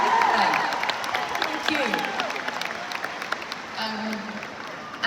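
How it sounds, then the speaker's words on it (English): A big arena crowd applauds and cheers through a live pop concert in Dublin's 3Arena, dense sustained clapping filling the hall while a performer's amplified voice speaks briefly over it. "A little round of applause for the plus ones"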